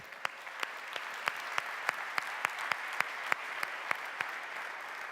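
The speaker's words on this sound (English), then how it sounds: "Big round of applause for these guys." An audience claps steadily for award-winning companies, a continuous patter of many hands with sharp individual claps standing out at a fairly even rhythm, heard from a moderate distance.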